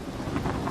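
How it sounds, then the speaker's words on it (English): Heavy rain and rumbling thunder from a hurricane-driven storm in Bradenton fill a short stretch with a dense, steady roar, with no voices over it. "While the storm rages outside"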